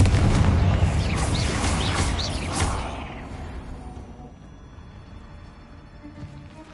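A Confringo fire spell bursts in Hogwarts Legacy, a loud booming blast that rolls and fades over several seconds into a quieter rumble.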